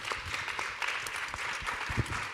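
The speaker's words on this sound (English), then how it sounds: "round of applause for an incredible panel" Audience applause follows a film screening and Q&A panel, a steady wash of many hands clapping at moderate distance, dense and even throughout with no talk over it.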